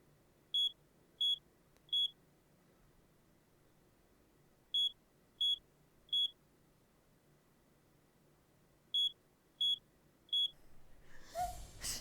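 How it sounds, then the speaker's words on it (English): A carbon monoxide alarm in a video game sounds three sets of three sharp high beeps with pauses between the sets, clear against a quiet background, followed by a burst of noise at the end. "Carbon monoxide alarm."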